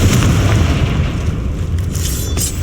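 A Confringo spell explosion in the Hogwarts Legacy video game bursts out as a loud, rumbling boom that fills the whole moment and then fades into a dense blast tail, with no speech over it.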